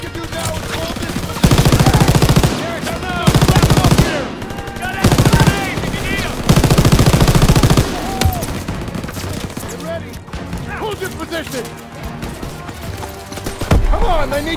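Heavy machine gun fire in Call of Duty: WWII, several long, loud sustained bursts separated by brief lulls, with shouted voices and battle noise in between.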